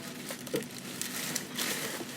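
A plastic bag is opened and crinkled while unboxing soft motorcycle luggage, giving a few faint, close rustles and crackles in short bursts.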